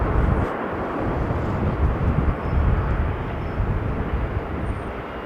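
A jet airliner taxis at Sydney airport, its broad engine roar and whine steady and fairly loud, with wind buffeting the microphone.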